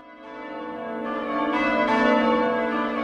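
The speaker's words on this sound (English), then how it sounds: "the jingling and the tinkling of the bells." Several bells ring together in a sustained, shimmering chord that swells gradually louder over about three seconds, with no voices.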